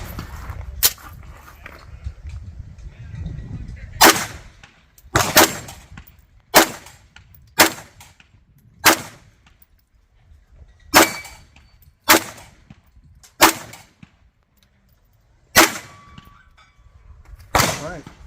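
Roughly fourteen sharp, loud pistol shots from a CZ 75 SP-01 Tactical firing steel-cased Monarch ammunition, spaced irregularly with brief pauses, each crack ringing out over a quiet outdoor range.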